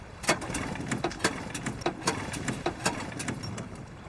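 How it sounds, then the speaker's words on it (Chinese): A boat motor at sea sputters as it runs out of fuel, uneven knocking bursts and coughs repeating irregularly over a low rumbling idle, fairly close. "哎，马达怎么回事啊？"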